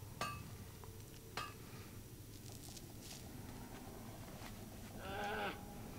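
Goat in World of Warcraft giving a few short bleats, a nasal cry near the start, another a second later and a louder wavering bleat near the end, over quiet background ambience with faint clinks.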